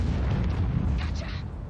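A tank cannon fires in a tank video game, a heavy deep boom with a rumbling low tail and a brief crackle of debris, loud and close.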